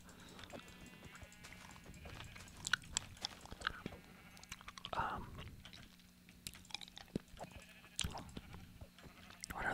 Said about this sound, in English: I'm gonna feel bad killing these sheep, but I do want some wool